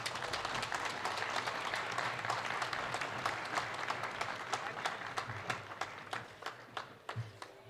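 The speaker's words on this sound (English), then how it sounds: "May I request you to kindly welcome him with thunderous applause" Sustained applause from an audience at a book release event in a pavilion at a world book fair, dense clapping that thins toward the end with a few separate claps.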